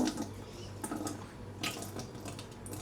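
Star San sanitizer runs from a kegerator beer tap down into a jug, a soft continuous trickle and splash with faint bursts of gurgle, fairly close and quiet, with no talking.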